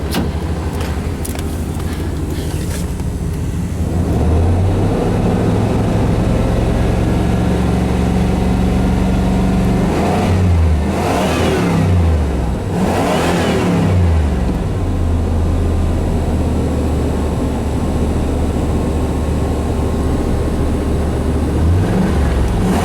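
Engine of a 2004 Chevrolet Impala after a cold start, running with a loud fluctuating drone, several surges and dips in revs, and a lumpy, uneven low rumble between them.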